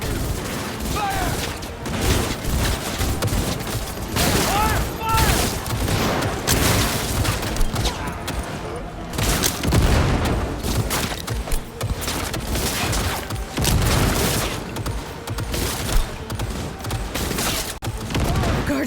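Dense gunfire in the Cyberpunk 2077 video game, loud continuous bursts of shots and impacts layered with mechanical clatter and booms, with occasional speech mixed in.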